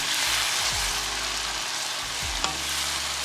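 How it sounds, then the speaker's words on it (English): Sun-dried tomatoes, onion and garlic sizzling in vegan butter in a pan, a constant close hiss broken by a couple of low scrapes and a brief clink of stirring, with no talking. "And then you add a bit of garlic and let that simmer in the pan for a little"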